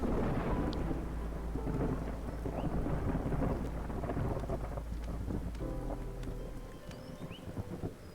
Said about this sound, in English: And then, of course, just before the storm hits,